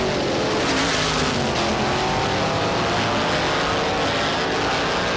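Race cars roar down the back stretch of a speedway oval, a dense, loud continuous engine drone from several cars at once, without speech.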